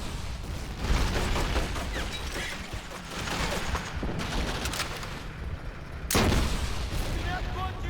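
Bazooka rockets and explosions in Medal of Honor European Assault, heavy continuous combat noise with dull booming blasts, two sharp loud impacts standing out, and someone talking underneath.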